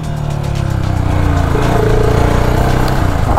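A 650 cc fuel-injected motorcycle engine runs at a steady, loud, throbbing idle close by, with a low, even pulse that holds through the whole stretch and no talk over it.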